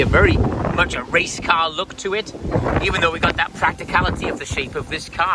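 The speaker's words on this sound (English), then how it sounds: "Excuse the wind, it is very windy today." Steady wind buffeting the microphone beside a Porsche Panamera Sport Turismo Turbo, a low rumbling roar running under continuous close-up talking throughout.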